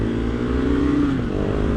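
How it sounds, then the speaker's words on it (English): A KTM Duke 390 or Husqvarna Svartpilen 401 motorcycle engine revving up close and loud, its pitch rising and then easing back in one steady, unbroken drone. "A little harder to wheelie the Husky than the KTM, but it's very eager and willing to."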